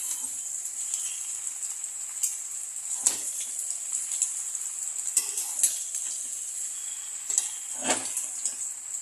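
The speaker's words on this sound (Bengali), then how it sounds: "ভালো করে কষা কষা হোক।" Shrimp mash sautéing in a pan, a steady soft sizzle and hiss with occasional brief scrapes of stirring, close and fairly quiet with no voices.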